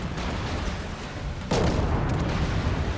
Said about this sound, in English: Then the Razor Worm comes, but luckily he's also within about 2 kilometers, so it actually lets me shoot him too.